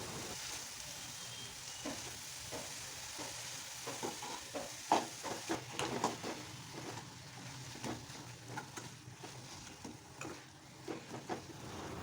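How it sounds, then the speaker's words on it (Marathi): Chopped spinach being mixed in a pan, with repeated scraping stirs of the spatula over a quiet, steady sizzle, fairly soft and close. "पालक टाकल्यानंतर व्यवस्थित मिक्स करून घ्यायचं"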